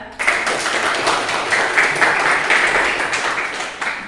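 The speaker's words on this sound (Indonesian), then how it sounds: "Beri tepuk tangan untuk Tasya." Applause from a classroom of students, a burst of many hands clapping at once that starts abruptly and holds steady for several seconds close to the listener.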